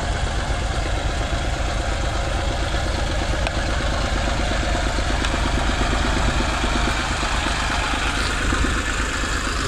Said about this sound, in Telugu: ప్రజెంట్ ఇక్కడ 3 ట్రాక్టర్లు మాత్రమే పనిచేస్తున్నాయి.